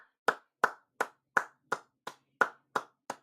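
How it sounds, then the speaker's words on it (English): Nine sharp, evenly spaced hand claps at a football watch party, close and fairly quiet, with no talking. "Yay! Clapping!"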